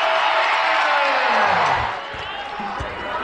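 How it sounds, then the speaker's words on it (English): A basketball arena crowd at an NCAA Tournament second-round game between Utah and Princeton roars and whoops loudly, rising to a peak and then easing slightly, with a commentator's voice running over the cheering. "the crowd on their feet for that one"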